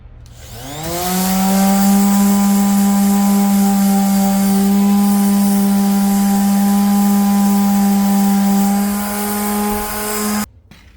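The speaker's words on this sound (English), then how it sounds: "I decided to paint it, so I'm gonna just scuff sand it." A power sander scuff-sands the top of a cheap dresser before painting, its motor spinning up quickly into a steady, loud whine that holds for about ten seconds before cutting off abruptly.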